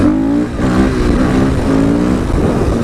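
KTM 500 EXC dirt bike engine revving hard in the wrong gear, a loud, close, continuous single-cylinder roar with shifting pitch and no talking.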